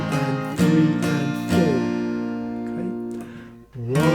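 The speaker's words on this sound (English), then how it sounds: "So put that together and we have a 2-bar strumming pattern, 8 beats, and it sounds like this." Acoustic guitar strummed in a steady two-bar, eight-beat rhythm for a song, chords ringing close and clear with accented downstrokes and no voice over the playing.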